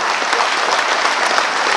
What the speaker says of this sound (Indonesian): Tepuk tangan yang besar